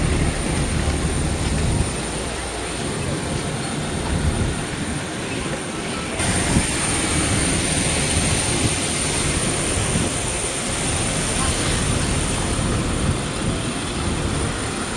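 Jet engines of an Air India Express airliner at Hyderabad international airport give a loud, continuous roar and broad rushing noise with a high whine, steady throughout and with no talk.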